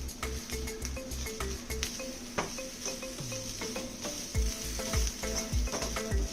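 Curry leaves and grated coconut sizzle steadily while being roasted in a frying pan, with repeated scraping strokes of a spoon against the pan and a low continuous crackle throughout.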